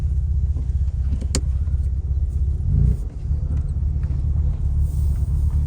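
A lowered BMW Series 1 E24 on Bilstein dampers and H&R springs drives along with a steady, loud engine and road rumble throughout, a brief swell near the middle, heard from inside the car with no talk.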